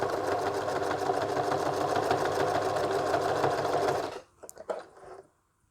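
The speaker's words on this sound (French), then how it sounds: "on va coudre jusqu'à la deuxième oreille" Close up, a sewing machine runs steadily for about four seconds, stitching fabric for a sleep mask, with a fast, even mechanical chatter that then stops, followed by a few small handling clicks.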